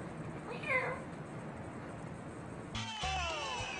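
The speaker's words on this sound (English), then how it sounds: "That's my cat." A cat meows once early on, fairly close, over a steady indoor background hum. A few faint, muffled knocks follow, and no one speaks.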